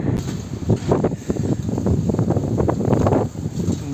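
Wind blowing outdoors in the open air, a steady gusty rush buffeting the microphone that runs throughout and stays loud and close.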